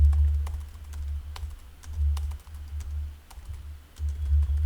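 Rapid typing on a computer keyboard, with irregular sharp clicks over a steady low hum, close and alone without talk.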